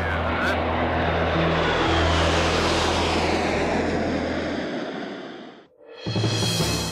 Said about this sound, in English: So that's the Mig-29 fighter.